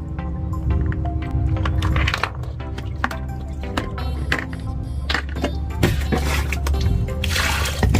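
Snails being washed under running water: a steady, fairly loud rush and splash of flowing water with scattered knocks and clinks of shells, continuous throughout with no talking.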